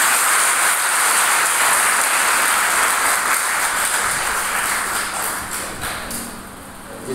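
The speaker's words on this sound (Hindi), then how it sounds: "एक बार खूब जोर से आप लोग ताली बजाइए।" Audience applause fills the hall at a career counseling and personality development talk, a dense steady wash of many hands clapping that stays loud throughout before tapering slightly near the end.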